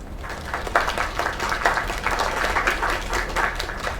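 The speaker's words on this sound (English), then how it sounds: "Another round of applause" Applause from a small crowd in the video game Lake, a steady wash of clapping at moderate distance that swells slightly in waves and continues evenly to the end, with no voices over it.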